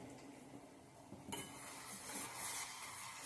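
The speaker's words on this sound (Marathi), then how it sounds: "एकसारखं हलवत राहायचं आहे" Sugar syrup with ghee being stirred in a pan for white sugar garland sweets, a soft scraping stir with faint clinks of the utensil, quiet and close, growing slightly busier partway through.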